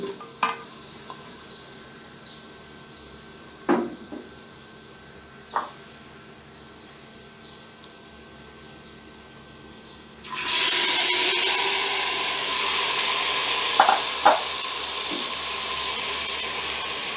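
Onions frying with cumin seeds in a clay pot. A few faint clicks and taps come first, then a loud, steady sizzle starts abruptly and continues to the end.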